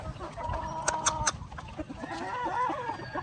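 Several white hens cluck and squawk close by in short bursts, with faint background noise and no speech.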